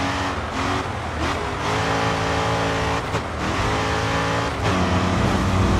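A racing car in the GRID 2 video game, set up with tail-happy handling, roars loud and close throughout, its engine revving hard with brief dips at gear changes before climbing again.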